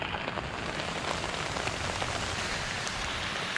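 Steady rain falls outdoors at a campfire where fish is cooking, a dense, even hiss of drops close to the microphone, continuous with no speech.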